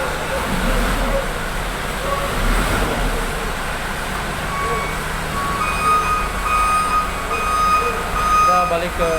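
Reversing beeps from a truck backing onto a ferry at the Masohi–Hunimua crossing, steady repeated tones over a loud rumble of engines and traffic close by, with voices talking throughout.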